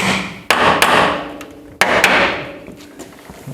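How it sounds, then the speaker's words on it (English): A small hammer knocks hinge pins into a hinged barrier, with a few sharp, separate taps spaced irregularly, each ringing briefly before fading, close and fairly loud. "I'm going to find a little hammer to knock in these pins"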